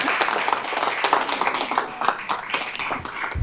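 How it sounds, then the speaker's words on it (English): A round of applause at a school board of education meeting, a brief burst of scattered hand claps from the room, fairly close and irregular. "Round of applause."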